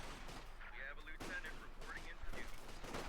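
Gunfire and tank cannon fire from a Company of Heroes 2 battle, rapid rifle shots and heavy blasts layered in a dense, continuous barrage.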